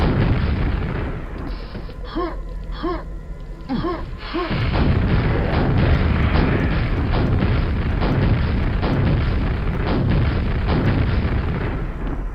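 Rockets fired repeatedly at a wall in Quake: a run of deep booming explosions rolls on continuously, loud and dense, after a few brief tonal game sounds at the start.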